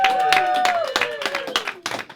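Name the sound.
comedy club audience applause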